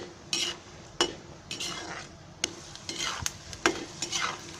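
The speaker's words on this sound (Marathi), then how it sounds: "हे आता पहिले मी शेंगदाणे घेते तळून" Peanuts fry in hot oil over a high flame for Konkani-style poha chivda, a soft sizzle broken by frequent clinks and scrapes of a spoon stirring the pan, close and without speech.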